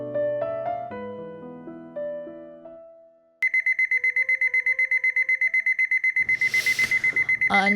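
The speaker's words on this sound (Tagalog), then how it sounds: "yung alarm clock" An alarm clock rings with rapid, loud, evenly repeating beeps close by, following a short melodic tune, with a brief burst of rustling noise near the end.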